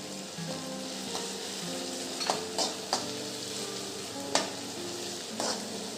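Onion sizzling and frying in hot oil with garlic paste for bhakri churma, a steady close crackle broken by a few sharp spatula stirs and clinks.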